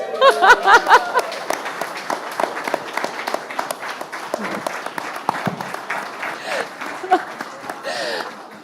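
An audience at the NDTV Indian Of The Year 2025 event applauds Professor Madhvi Lata, a dense crowd clapping that swells at the start and carries on steadily, with voices and cheers mixed in.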